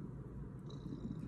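A pet cat purring up close, a steady low rumbling purr running continuously and evenly throughout, with no talk.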